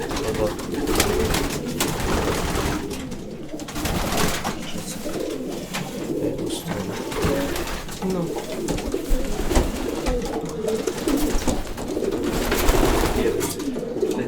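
Many racing pigeons coo and rustle close by in a loft, a busy continuous murmur with someone speaking over it.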